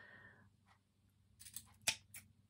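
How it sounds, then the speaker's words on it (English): Scissors snip craft material for holiday cork decorations, giving a few quiet close cuts with one crisp loud snip, in an otherwise hushed room. "I'm going to give it a little bit of a snip."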